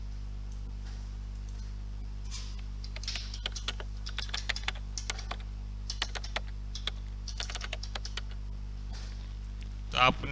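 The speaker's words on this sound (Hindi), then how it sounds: "कीबोर्ड की टाइपिंग का।" A computer keyboard typing sound effect from Canva, with rapid, irregular clicky keystrokes close up over a low steady hum, and a voice briefly at the end.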